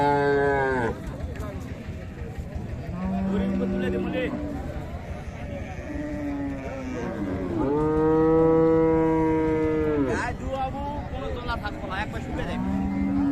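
Friesian cows with calves at Raniganj cattle market in Dinajpur let out several long, loud moos close by, against a steady murmur of the market crowd.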